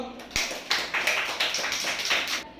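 A classroom group gives a short round of clapping applause, a quick run of about seven sharp claps close by, with no talk over it.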